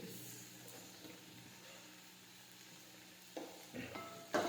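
A spiced gunda sambharo mixture is stirred in a pan, giving a soft continuous scraping and faint sizzle with a few louder clinks of the spoon against the pan toward the end.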